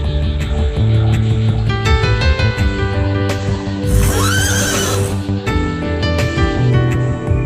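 A horse whinnies loudly and close, a long shrill neigh rising over a backdrop of music.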